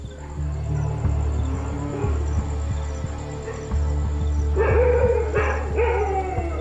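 Village dogs in rural India bark and howl at night, sharp distant yaps scattered over a steady chorus of crickets, rising into longer howling cries toward the end.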